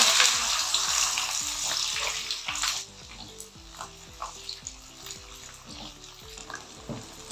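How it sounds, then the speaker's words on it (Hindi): Okra dropped into hot oil to brown lightly, a sizzling hiss that starts strong and fades as pieces settle, with light clinks and stirring knocks, close and moderately quiet. "अब इसमें पहले मैं भिंडी डालूंगी हल्की सी ब्राउन करने के लिए।"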